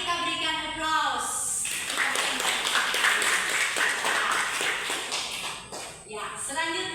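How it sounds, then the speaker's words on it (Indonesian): A class audience claps together in a classroom, a steady burst of applause of about four seconds, with a teacher's voice speaking just before and after. "Mari kita berikan aplaus."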